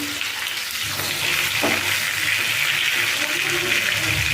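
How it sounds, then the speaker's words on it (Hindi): Katla fish pieces fry in hot oil in a pan, a steady broadband sizzle throughout with a brief clatter midway, close and loud without talk. "हम इसको पलटा देंगे और दूसरी तरफ भी अच्छे से फ्राई करेंगे"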